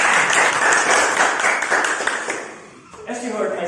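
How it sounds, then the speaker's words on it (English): Audience applause following a speech on the climate crisis at a Dominican aspirancy speech practice session, a dense wash of clapping that stays loud for about two and a half seconds, then thins out before a voice begins talking. "Give applause to Brother Alcet."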